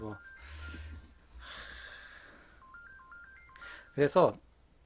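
Telephone tones and a short electronic melody play under a nearby voice, ending with a louder burst of ringing near the close, as an urgent incoming call arrives during an airsoft P38 pistol shooting session.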